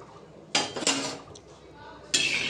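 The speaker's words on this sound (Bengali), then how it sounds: "এবার খুন্তি দিয়ে আমি চাটুর চারিদিকে একটু তেলটা আমি ছড়িয়ে দেবো" A metal spatula scrapes oil around a tawa griddle, giving a few sharp, close scrapes and clinks separated by brief pauses.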